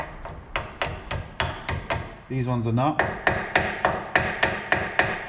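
Repeated sharp hammer blows strike the front brake caliper slide pins on a Toyota Land Cruiser, landing in a steady rhythm up close, with a brief squeaky metallic scrape between strikes and a short spoken remark.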